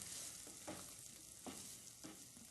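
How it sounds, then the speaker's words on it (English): Peas are sautéed in a pan for spaghetti squash primavera, producing a faint, steady sizzle with a few soft stirring scrapes at even intervals; no talking. "you're going to just saute that a little bit"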